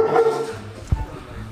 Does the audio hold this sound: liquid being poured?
no